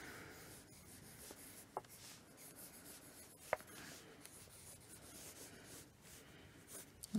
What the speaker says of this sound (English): write authority in kind of relaxed, loopy handwriting